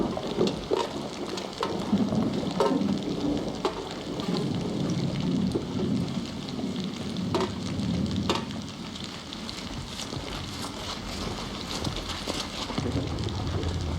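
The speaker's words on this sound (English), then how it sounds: "Rain falling, something didn't expect out here." Steady rain patters and hisses continuously on muddy Australian outback ground, with occasional sharper drops and splashes, no voices.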